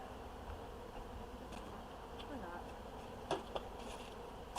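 A large honeybee orientation flight hums as a steady, faint buzz of many bees around a hive, a few nearer bees passing close with louder zips.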